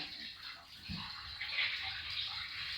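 Tap water runs into a kitchen sink during dishwashing, a soft steady hiss with faint splashes, quiet and close.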